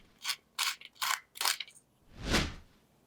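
Salt and pepper mills are twisted over a yogurt dressing for cucumber salad: four short ratcheting grinding bursts, close and crisp, then a softer, broader rasp at the end, with no talking.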